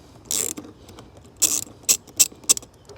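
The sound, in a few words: hose clamp being opened on VW Tiguan intake hose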